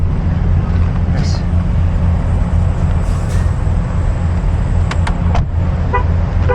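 Heavy road traffic rumbles continuously from inside a moving vehicle, with a passing jeep and short horn toots breaking through near the end.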